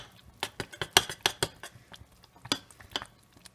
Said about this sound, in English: you just need to stick with it and keep stirring